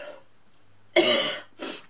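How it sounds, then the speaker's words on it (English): Two harsh coughs close to the microphone, the first loud and drawn out, the second shorter and softer, after a quiet pause. "Excuse me while I cough."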